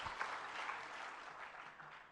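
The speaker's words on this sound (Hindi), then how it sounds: "छोटी सी बिटिया के लिए तालियां जरूर बजा दीजिएगा" An audience at a religious discourse gathering in Agra claps for a little girl, a steady wash of applause that stays fairly soft and distant throughout without any voices over it.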